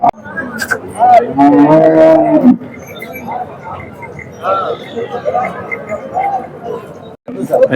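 A large Punganur cow gives a long, deep moo up close, followed by people chatting in the background amid a noisy cattle market.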